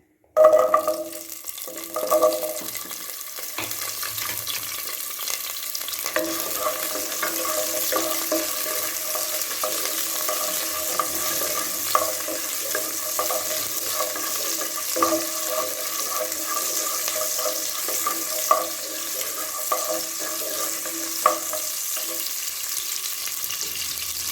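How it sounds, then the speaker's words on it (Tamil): Small shallots dropped into hot oil in a pan for Tirunelveli idi sambar: an initial burst, then a long, steady sizzling hiss with occasional light crackles. "எண்ணெய் காஞ்சி எடுத்து சின்ன வெங்காயம் முதல்ல போட்டுக்கோ"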